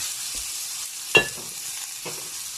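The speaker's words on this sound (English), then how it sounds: "we just want to brown the onions a little bit" Onions frying in plenty of olive oil for Thanksgiving stuffing, a soft continuous sizzle with a couple of sharper stirring knocks against the pan.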